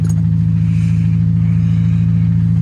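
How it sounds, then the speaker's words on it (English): A Mercedes-Benz 190E engine idles in a steady, loud low rumble after a light blip of throttle, the tone holding even and close with no talking. "Just had to give her a tiny bit of throttle."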